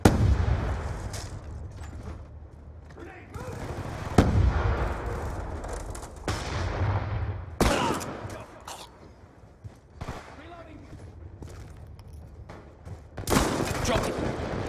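A battlefield in Call of Duty Black Ops 2, with a grenade blast among repeated gunshots and booming impacts. Sharp cracks and thuds come in irregular bursts at close to mid range, and voices are heard at times.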